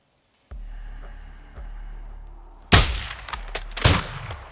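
Two sharp sniper rifle shots ring out around 2.7 and 3.8 seconds in Modern Warfare 2, each a loud crack with a rolling tail, following a steady low electronic hum and faint game ambience.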